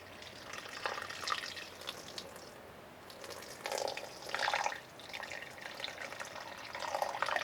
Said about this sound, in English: put your towel in the water, pour your water